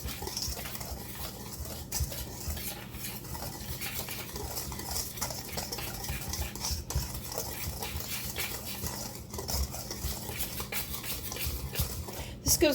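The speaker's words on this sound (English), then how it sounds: "we're just going to whisk this together" A whisk stirs sugar into cornbread batter in a bowl, giving a continuous scraping, swishing rhythm close by with faint clinks against the bowl throughout.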